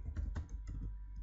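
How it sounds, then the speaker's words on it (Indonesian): Quick typing on a computer keyboard, a short burst of several close, light key clicks heard alone. "Misalkan saya ketikkan"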